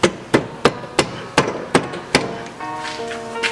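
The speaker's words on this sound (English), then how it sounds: "Never use your palm as a hammer." Bare palm slapping parts onto a Nissan 350Z wheel hub during a dual caliper adapter install, about seven sharp, evenly spaced hand strikes with a short ringing metallic tail after the last one.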